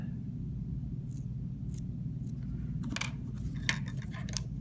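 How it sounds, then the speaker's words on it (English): Scissors snip through balsa wood, giving several faint, short crisp cuts spaced unevenly over a steady low hum of room noise. "take some scissors, cut that there"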